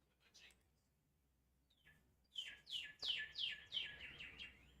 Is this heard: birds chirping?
yes